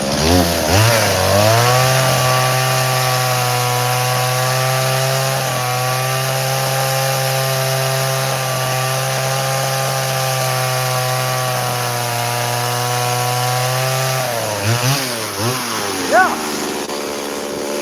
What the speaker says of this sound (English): I'm wondering if I can get some nose holes with the chip of the chainsaw